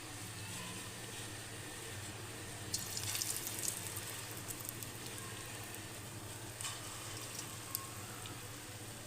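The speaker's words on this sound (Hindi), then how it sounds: "अब हम मंगोचियाँ जो अपनी फ्राई कर लेते हैं।" Moong dal mangochiyan frying in hot oil, a steady close hiss and sizzle throughout, swelling briefly when more batter goes in, with no talking.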